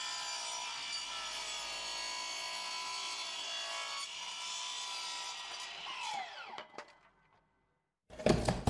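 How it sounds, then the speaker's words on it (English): A miter saw cuts through a laminate board for a bathroom floor, a loud sustained whine and rasp that spins down to a halt, then brief silence and a sharp noise at the end. "Get help quicker with a miter saw."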